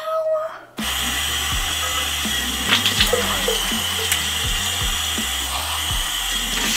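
Cold tap water running steadily into a bathroom sink, a constant close hiss and splash starting after a brief pause, with faint knocks and a voice briefly under it.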